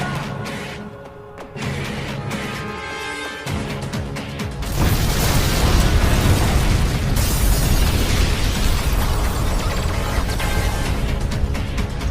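A bomb explosion in a dramatic scene: a rumbling blast bursts in after a quieter stretch, followed by sustained loud roaring debris and rumble that fills the rest of the moment, with no talk over it.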